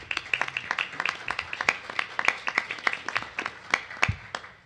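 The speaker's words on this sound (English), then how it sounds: "The applause is well deserved." A small group at a delegates meeting claps in a quick, uneven patter for a few seconds, moderately distant, with no talking over it.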